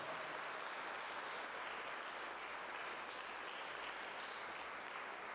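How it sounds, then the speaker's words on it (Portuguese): Steady, dense applause from a large church congregation at a preaching service, continuous and even throughout with no talking on top. "Dê uma salva de palmas para esse Deus."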